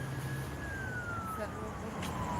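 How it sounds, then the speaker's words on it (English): Police vehicle siren wailing at a distance as units approach a protest outside a police station, a long gliding tone falling slowly under a constant wash of crowd and street noise. "police vehicles approaching"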